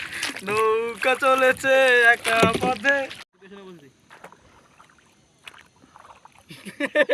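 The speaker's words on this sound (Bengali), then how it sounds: "নৌকা চলেছে একা পথে" A rowboat out on Mahamaya Lake, with a singing voice filling the first few seconds before it gives way to quiet, scattered splashes and knocks of oars on the water.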